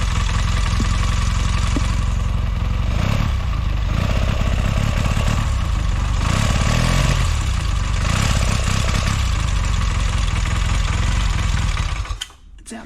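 A newly built Velocette motorcycle engine runs steadily at close range with a continuous loud idling drone and slight revving, cutting off abruptly near the end as it runs out of fuel.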